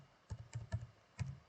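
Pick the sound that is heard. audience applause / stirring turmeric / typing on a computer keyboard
typing on a computer keyboard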